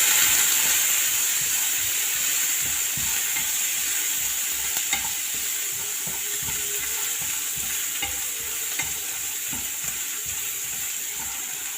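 Onion, curry leaves, vegetables and cooked green peas stir-fried in a pan, a steady bright sizzle with rapid, regular scraping strokes of a spoon throughout, close and continuous with no talking.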